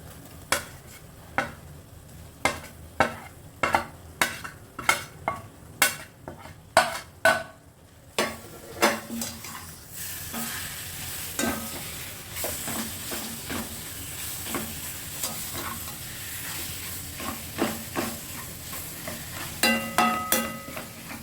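Spatula stirring fish puttu, a Tamil dish of fish mixed in a pan, gives a run of sharp scraping clacks, rhythmic at first, then looser and busier scraping over a soft sizzle.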